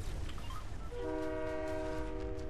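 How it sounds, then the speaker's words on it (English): A train rushes past in the Fortnite video game, a loud rumbling roll that builds into a sustained multi-tone horn blast held to the end, with no talk over it. "Oh shit, train's really fast."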